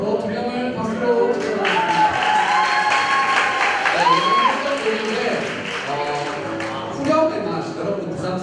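Applause from a church college-group worship congregation, a steady wash of clapping mixed with crowd voices and shouts throughout, fairly loud and close.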